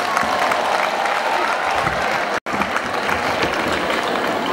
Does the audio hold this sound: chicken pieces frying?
no